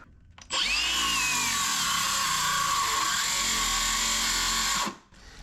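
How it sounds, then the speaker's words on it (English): A battery-powered saw plunges into wooden boat cabinside planking, a loud steady whine with a rising pitch sweep as the blade drops in, holding a continuous cut for about four seconds before stopping abruptly. "Okay, starting with a plunge cut right here."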